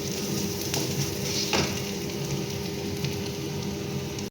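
Spices such as turmeric and chili powder frying with fish and potato in a pan as they are stirred, a dense continuous sizzle with occasional utensil scrapes, close and fairly loud.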